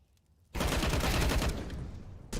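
A sustained burst of automatic gunfire in Counter-Strike: Global Offensive, loud and dense for about a second before tapering off, with a single shot following after a brief pause.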